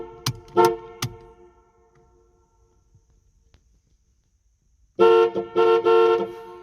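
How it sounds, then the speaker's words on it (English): A 1989 Pontiac Firebird Trans Am horn, faulty and honking on its own, gives a few short loud toots, then silence, then another burst of several quick honks. "the car would randomly honk the horn, especially when I use the indicators"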